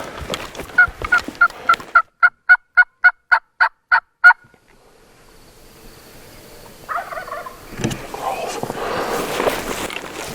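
A Merriam's wild turkey gobbles on a Montana mountain ridge in spring. A loud, close, rapid rattling gobble of a dozen or so even pulses is followed by quiet, then soft rustling and breezy noise.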